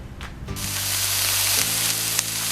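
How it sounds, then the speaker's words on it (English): Teriyaki steak with mixed vegetables sizzles loudly in a pan, a steady close hiss that swells after a brief clatter at the start and runs unbroken with no talk. "Listen to that sizzle."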